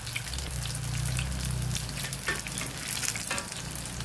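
Crab rangoon deep-frying in hot oil, a continuous loud sizzle and crackle of bubbling fat with occasional sharper spits, steady throughout and close to the pan, with no voices.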